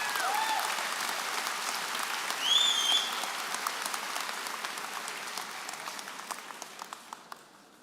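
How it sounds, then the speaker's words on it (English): Sustained applause from the audience at a university freshman convocation after a student speaker, a dense steady clatter of many hands that gradually thins and fades out toward the end. "please join me in one more well-deserved round of applause for our student speaker, Domenico Guadalupe."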